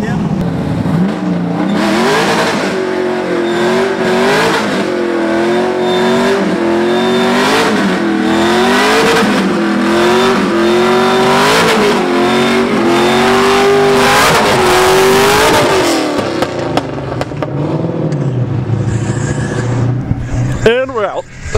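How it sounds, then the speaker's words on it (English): Nissan 240SX drift car doing a burnout, its engine revving hard and bouncing off the limiter in a loud, rhythmic series of surges for about fifteen seconds, then dropping back toward idle as the engine settles. "Let's just go do a burnout because I hate this."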